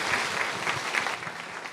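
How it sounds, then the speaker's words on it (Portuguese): A church congregation applauds during a Portuguese-language Sunday morning service, steady dense clapping filling the short stretch at moderate loudness with no speech over it. "Você pode aplaudir a Jesus essa manhã?"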